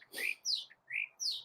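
Loud, territorial backyard mockingbird sounding a handful of sharp, raspy call notes with brief gaps between them, close and alone over a quiet background.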